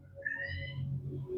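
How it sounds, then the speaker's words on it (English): A single cat meow, drawn out with a rising then falling pitch, close by and fairly soft against a low background hum. "That's my cat."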